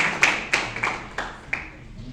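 Congregation clapping in praise during Sunday Bible school at a church in Tatuapé, five sharp, distinct claps spaced roughly a third of a second apart, close and fading into quiet room tone.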